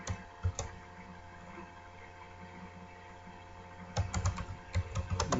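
Code typed on a computer keyboard, with a few scattered key clicks early, then a quicker burst of close keystrokes near the end, over a low steady hum in a quiet room.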